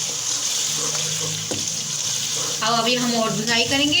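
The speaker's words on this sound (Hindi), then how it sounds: "देखिए 2 टेबल स्पून मैं दोबारा डालूंगी पानी।" Water is poured into sizzling masala frying for beef kofta curry, a steady hiss and splash beneath someone speaking.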